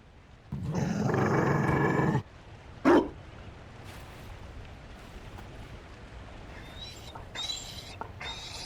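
A Mabari war dog in the fantasy game Dragon Age: Inquisition gives one loud, sustained growling snarl lasting over a second, then a sharp short bark, with quieter ambient game sounds and faint chirps trailing after.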